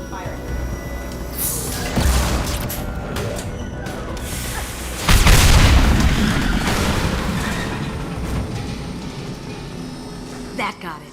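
Heavy weapon fire strikes a tank in the video game Mass Effect 2, with a loud blast near the start and a bigger booming explosion midway that slowly rumbles away among battle noise, followed by a short sharp hit near the end.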